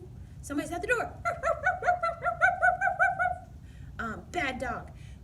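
A person mimics a dog barking at someone at the door, giving a quick, steady run of about a dozen short, close yaps, with brief spoken bits at the start and end.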